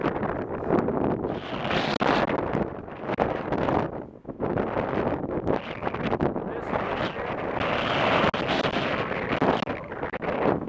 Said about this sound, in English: You can hear it, it's pretty windy.